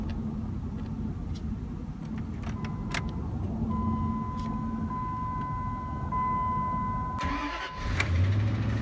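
A truck engine starts up near the end of a steady low rumble before a dirt-road drive in the mountains. A tonal whine runs through the middle, and the engine catches abruptly with a low surge.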